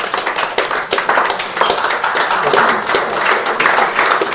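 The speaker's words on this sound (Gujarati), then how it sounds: "ખૂબ ખૂબ તાળીઓથી વધાવી દઈએ." Audience applause rings out at a book release ceremony, a loud, continuous burst of many hands clapping close by, steady for several seconds.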